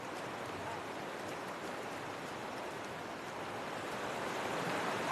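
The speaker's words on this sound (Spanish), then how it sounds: "este río de montaña atraviesa el valle con abundante caudal" A mountain river in an Albanian valley runs with abundant flow, making a steady, dense rushing wash that stays even and close throughout with no voices.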